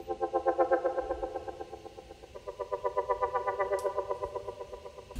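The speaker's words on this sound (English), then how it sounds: "so that LFO is making the filter open and close very quickly" Synthesizer notes pulsing with a fast wobble as an LFO sweeps the filter open and closed, a rhythmic warbling tone that fades slightly then returns, moderately quiet, no voices.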